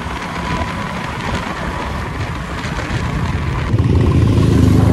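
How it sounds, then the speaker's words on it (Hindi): A motorcycle is ridden and accelerated on a road, giving a steady rush of engine and wind noise that grows louder and deeper toward the end. "खींचते हैं गाइस बाइक को थोड़ा सा।"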